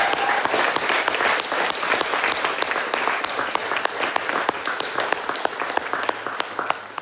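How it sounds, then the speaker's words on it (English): A debate audience applauds the speakers, many hands clapping in a dense, steady roar that carries on throughout, loud and close. "So I'd like to give them all a round of applause."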